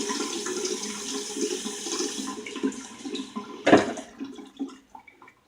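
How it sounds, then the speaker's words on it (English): Tap water runs and splashes while a face is wetted before a wet shave, a steady rushing flow that thins out, then one sharper splash and a few fading drips near the end. "Go ahead and wet my face up a little bit."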